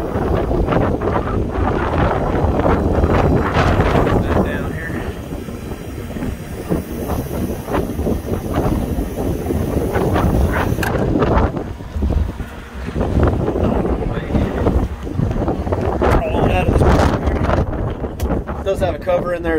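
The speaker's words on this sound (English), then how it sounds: "It's windy." Strong gusty wind of about 35 mph buffets the microphone outdoors beside a 2011 Ford F550 4x4 Altec truck, a heavy continuous roar that swells and dips, with someone talking over it.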